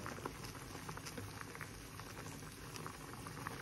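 Sour curry boiling vigorously in a pot, a faint, steady bubbling with scattered pops and crackles throughout.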